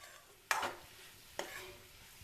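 Two short, quiet scraping strokes of a spoon stirring cabbage and potato curry with tomato in a pan, each a brief swish separated by near-silence.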